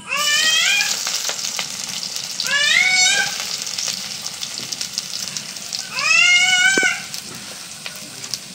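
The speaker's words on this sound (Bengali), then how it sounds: "এই যে এখন দিয়ে দিব পেঁয়াজ কুচি।" Chopped onion sizzles steadily in oil in a fish curry pan, a continuous close frying hiss throughout, with a cat's meows rising over it three times.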